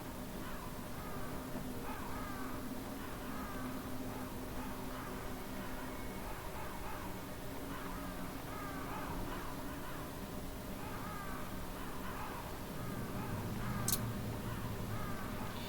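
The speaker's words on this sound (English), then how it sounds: "Just chill out with these crows." Crows caw repeatedly in the Metal Gear Solid video game on PC, a series of harsh calls at an irregular rhythm over a steady hissing ambient background, with no talking.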